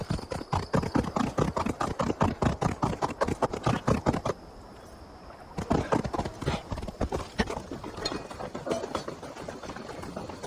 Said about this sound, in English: One for me, one for my horse